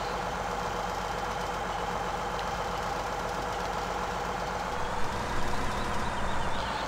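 A tractor working through mud on a farm, its engine holding a steady, loud, close drone throughout with a slight swell near the end, with no voices.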